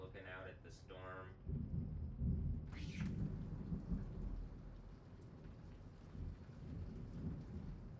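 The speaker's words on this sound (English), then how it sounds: "There's more lightning." A thunderstorm with lightning rolls in: after a brief voice at the start, deep thunder rumbles low and sustained over a constant, faint wash of rain.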